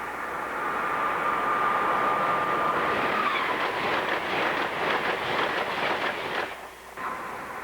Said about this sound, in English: Here's a Metroliner going really fast.